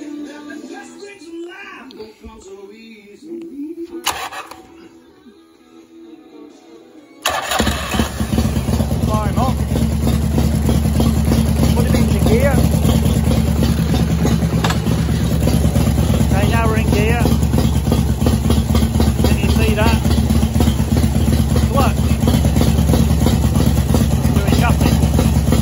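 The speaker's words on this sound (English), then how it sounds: "So what I'm going to do is turn the bike on." A Harley-Davidson motorcycle with a slipping clutch and burnt plates, in neutral, is quiet at first. It then fires up abruptly and settles into a loud, steady, close idle that runs uninterrupted to the end.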